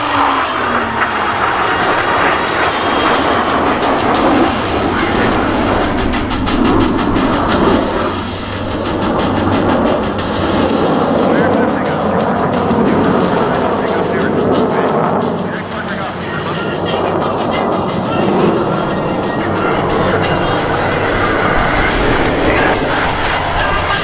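U.S. Navy Blue Angels jets of the Diamond formation looping over the California Capital Air Show, a loud continuous roaring engine rush filling the air, with an announcer's voice talking over it.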